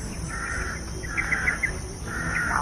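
Crows calling repeatedly in a rural outdoor setting, a few short harsh caws rising above steady background noise, moderately near, with no talk.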